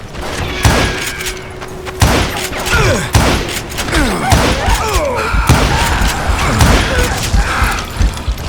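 Gunfire shootout in Call of Juarez: Gunslinger set in rugged mountain country, with loud sharp shots fired in irregular bursts, thuds and ricochet-like mechanical clatter packed across the whole stretch.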